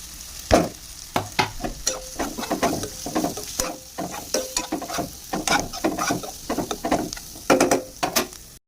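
Irregular scraping and clattering of a spatula stirring beans with spices in a pan, with a soft sizzle underneath, no voices.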